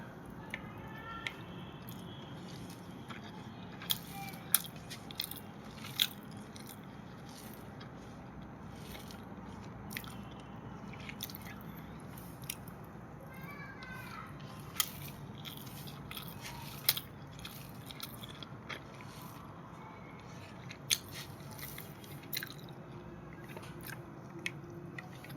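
A cooked cabbage dish eaten as part of a light homemade lunch, with soft crunching and biting clicks scattered over steady low background noise, close and fairly quiet, no voices.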